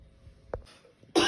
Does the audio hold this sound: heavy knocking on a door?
no